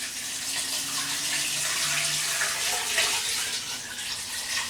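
Water pours steadily into a container while making doenjang, a continuous close splashing gush lasting several seconds with no talk over it.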